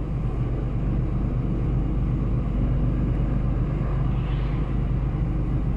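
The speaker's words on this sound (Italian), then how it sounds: "Grossa arteria trafficatissima." Heavy traffic on the A8 motorway between Stuttgart and Munich, a constant loud rumble of passing cars and trucks with broadband road roar that never lets up.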